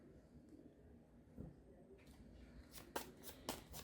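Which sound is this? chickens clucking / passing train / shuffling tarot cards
shuffling tarot cards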